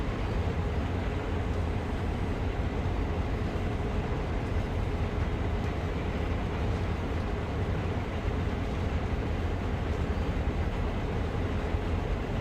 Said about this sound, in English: Train jostling seems to have calmed down now.